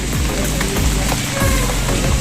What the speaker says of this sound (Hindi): देखिए पानी गिर रहा है और ठंडी ठंडी बारिश